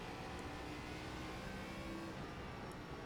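An ARCA race car engine at full throttle in the iRacing simulator, a steady, dense, constant roar held evenly with no breaks and no talk.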